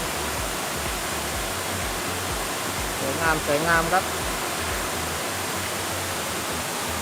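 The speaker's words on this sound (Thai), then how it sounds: "เป็นน้ำตก" Khlong Yot Nam waterfall in Nakhon Si Thammarat, Thailand, tumbles among large boulders with a steady, even rush of water throughout. Someone speaks briefly over it midway.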